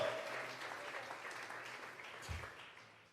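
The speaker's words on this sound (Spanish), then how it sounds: "Vamos a regalarle ofrenda de palmas al Dios de la gloria." A church congregation gives an offering of applause during a Thursday Bible doctrine service, a soft, distant wash of clapping that fades gradually.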